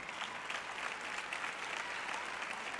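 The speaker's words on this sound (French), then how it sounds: "vous applaudissez quand je dis que Jésus revient" Steady, continuous applause from a church audience, dense clapping filling the whole stretch without pause or voices.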